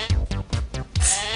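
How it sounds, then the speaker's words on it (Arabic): A billy goat bleats in several quick, loud, nasal pulses close by, ending in one longer drawn-out cry. "هذا تيس"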